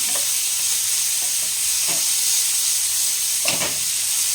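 A filling is lightly sautéed in a pan for bread pizza, giving a steady close sizzle broken by a few scraping stirs, with no one speaking.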